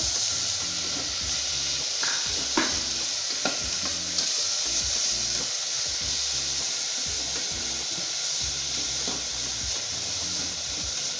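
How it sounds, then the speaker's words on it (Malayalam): Onion, ginger, garlic and green chilli fry in a pan as the base for butter chicken, a steady loud sizzle with scraping stirring strokes and occasional clinks, no voices. "ഇനി ഇതിലോട്ടേക്ക് നമ്മൾ ചേർത്ത് കൊടുക്കുന്നത് ഒരു ചെറിയൊരു പീസ് ഇഞ്ചി, 3-4 വെളുത്തുള്ളി, ഒരു പച്ചമുളക്"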